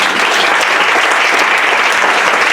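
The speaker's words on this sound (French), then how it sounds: "Acclame Jésus" A church congregation applauding: dense, steady clapping from a large group, loud and close, with no pauses.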